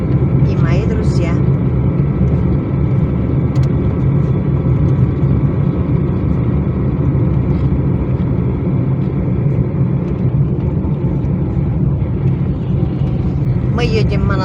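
A car driving along a rural road toward a village monastery, heard from inside as a steady low engine and road rumble, loud and continuous, with a few brief higher clicks near the start and end.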